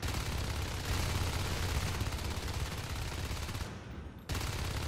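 Dense, continuous gunfire from a Natural Selection 2 match fills the space as a loud, unbroken rattle, briefly dropping out near the end before resuming at full strength.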